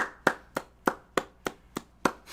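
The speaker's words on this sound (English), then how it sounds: "Let's clap it up for Mr. Brian Allen, please." Steady rhythmic clapping for a guest on an indie game discussion show: eight crisp, evenly spaced claps, close and clear, with no talking.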